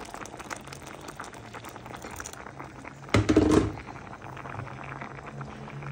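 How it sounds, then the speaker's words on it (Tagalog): A pot of champurrado rice porridge bubbles and simmers steadily at low volume, with one brief louder clatter or splash partway through. "Ayan, patuloy na siyang kumukulo."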